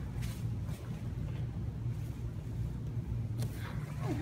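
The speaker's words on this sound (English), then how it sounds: "Actually, just listen to the motor." Motor of a 1970s Dover elevator in a building on Hilton Head Island, a low steady hum and rumble running throughout at moderate level, with a couple of faint higher knocks near the end.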